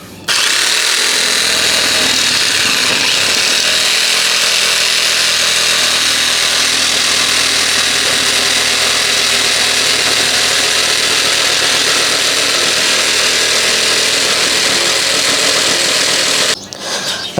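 An electric jigsaw cuts through wood with a loud, close, continuous buzzing whine that runs unbroken for most of the stretch before cutting off near the end.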